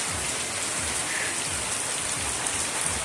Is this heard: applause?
no